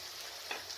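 Tomato and green chili frying in a pan for Vidarbha-style dal fry, a steady soft sizzle throughout with a faint stir, quiet and continuous with no voices.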